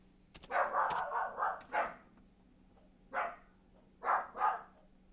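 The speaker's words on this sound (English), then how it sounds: "I'm going to mute for a minute just so you don't have to hear him barking" A dog barking indoors in short bursts, a quick run of sharp barks followed by spaced single and double barks, fairly close over a faint steady hum.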